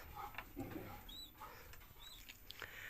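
Domestic pigeons in a coop give soft, low coos in short repeated phrases, fairly faint and close, with light rustling and a few chirps around them.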